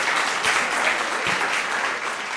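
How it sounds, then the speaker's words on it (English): During a school quiz competition, an audience gives a team steady, full applause, an even wash of many hands clapping close by throughout. "Please clap for them."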